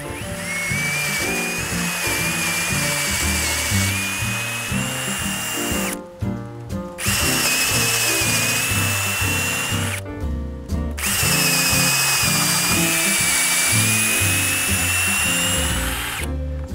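A power drill whines loudly as it bores through wood while building a deck, in long pulsing runs, stopping briefly twice before starting again.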